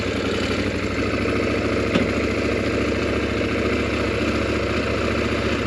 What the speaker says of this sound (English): Now it's got that characteristic KTM engine.